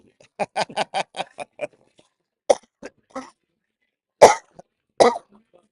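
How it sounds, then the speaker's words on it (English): A rapid fit of about eight harsh coughs close by, followed after a pause by several more scattered coughs and throat-clearing bursts. "I'm coughing my guts up now."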